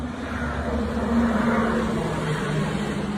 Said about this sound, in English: Waiting for the bus to pass by so it's less loud